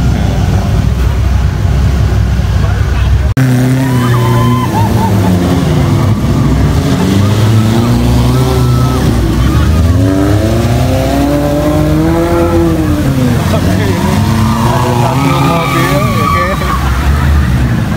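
An off-road jeep ploughs through water on a tour of the Breksi cliffs near Yogyakarta, with a steady roar of engine and splashing and the engine rising and falling in pitch throughout.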